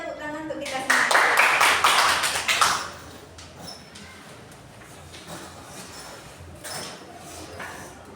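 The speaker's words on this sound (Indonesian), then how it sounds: "Beri tepuk tangan untuk kita semua." Classroom of junior high students clapping in a short, lively burst of about two seconds that fades into quieter room noise with scattered taps and a teacher's voice.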